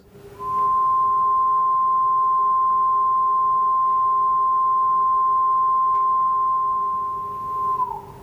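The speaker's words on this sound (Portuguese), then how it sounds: "este é um som do Rhinolophus lobatus" A slowed-down echolocation call of a Rhinolophus lobatus horseshoe bat from Mozambique: one long, steady whistling tone held for several seconds that ends in a quick downward sweep, heard alone.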